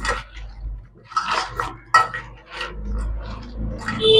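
Crab pieces being mixed by hand with salt and spices in a bowl, giving scattered clinks and scrapes against the dish with soft, irregular handling sounds in between.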